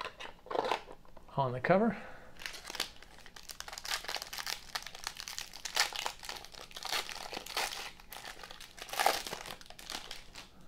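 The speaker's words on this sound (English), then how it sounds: "let's open up our first cereal box." Panini basketball cereal box opened by hand, crinkling and tearing of cardboard and plastic packaging in close bursts, with a person talking quietly over it.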